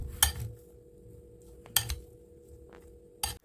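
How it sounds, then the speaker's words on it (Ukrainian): Cabbage salad ingredients being mixed with cutlery in a bowl, three separate sharp clinks and scrapes spaced about a second and a half apart, close and fairly quiet, no talk. "Всі інгредієнти ретельно перемішую"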